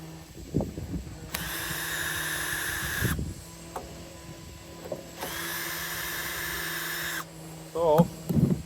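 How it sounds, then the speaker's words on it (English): A low-charged cordless drill drives screws into the cover of a vintage Craftsman lawn mower, with two sustained whirring runs of a couple of seconds each, broken by brief clanks and handling noises close to the microphone. "Still have not charged my drill, but it's got enough to turn some screws."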